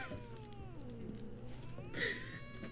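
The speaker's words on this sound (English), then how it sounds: "Cat." A cat in The Witcher 3: Wild Hunt gives a drawn-out meow with a gliding, wavering pitch, fairly close and clear over a low game ambience, with a brighter accent near the end.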